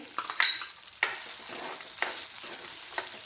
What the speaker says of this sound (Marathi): तुपामध्ये आपल्याला ते फ्राय करायचे